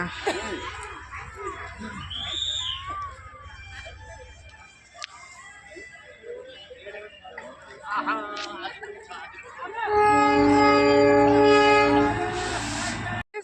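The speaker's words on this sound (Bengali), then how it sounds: "ও ট্রেন আছে" A train in Darjeeling near Kanchenjunga views approaches amid people chatting, then a loud sustained horn-like tone with strong harmonics blares for a couple of seconds near the end.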